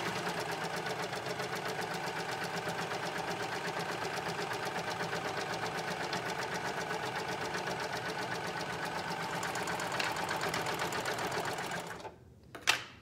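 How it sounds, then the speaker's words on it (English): Sewing machine stitching steadily through a scrap of black fabric, a dense, even mechanical whir that runs close and loud for about twelve seconds before it stops abruptly, followed by a brief clack. "I'm going to try and sew on the same black fabric."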